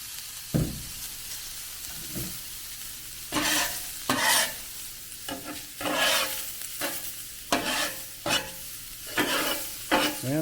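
Mushrooms and onions frying on a Blackstone griddle, with a steady close sizzle broken by repeated bursts of spatula scraping and tossing at an uneven rhythm.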